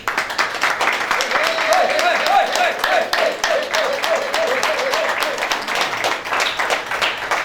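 An audience at a school meeting claps to welcome a guest speaker, a steady, moderately loud round of applause lasting several seconds while a voice speaks over it.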